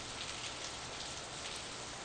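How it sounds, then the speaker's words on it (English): Steady, dense rain from the Steins;Gate 0 video game pours without pause in a continuous even hiss, with no voices or other sounds on top. "It was raining. The rain was falling on my face in drops so large that it hurt."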